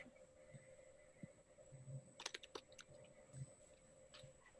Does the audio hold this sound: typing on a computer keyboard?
yes